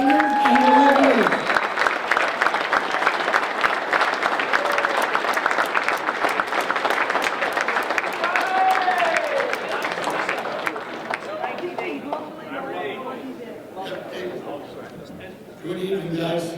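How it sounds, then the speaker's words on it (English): A banquet audience at a lacrosse Hall of Fame ceremony applauds its inductees: dense, sustained clapping that fills the room and slowly thins toward the end, with voices mixed in. "another round of applause for this year's Hall of Famers and the winners."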